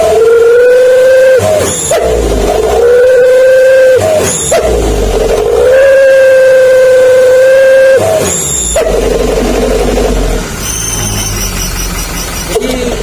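Hino Dutro truck with a double-capacity turbo and a srigala exhaust, a loud, close howling whistle with a deep rumble, rising and cutting off in repeated revs with sharp bursts between them.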